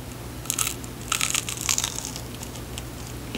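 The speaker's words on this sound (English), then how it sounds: "if you bite over here, it's going to do that extra crunchy" Crisp crunching bites, a few sharp bursts of crackle close to the mic, with quiet pauses between them.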